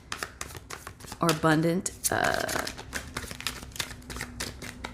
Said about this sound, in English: I want to just shuffle through these one more time.